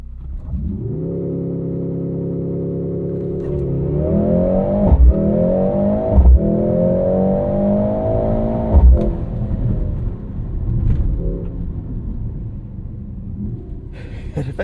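A 2025 Mercedes-AMG GLC 63 S E Performance with a four-cylinder engine holds a loud, steady launch-control rev, then surges through a rising acceleration with clear gear-change dips. The engine is close and dominant.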